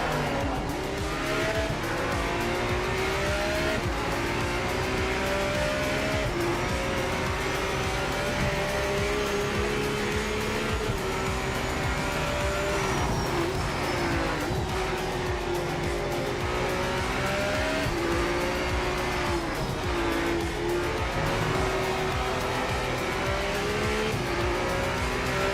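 Race cars in the Project Motor Racing video game, loud continuous engine drone with shifting pitch as the cars accelerate and lift, tire squeal over it, no talking.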